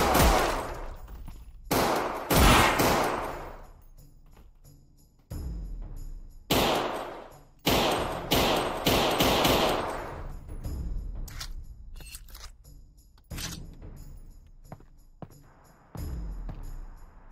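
Gunfire in a John Wick themed Half-Life mod shooter game: repeated loud bursts of automatic fire and single shots, clustered in volleys with short gaps, dense and close throughout.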